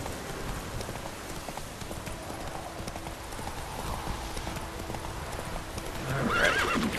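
Rhythmic horse hooves in the game The Witcher 3: Wild Hunt clip-clop steadily at moderate distance, with a horse whinnying near the end.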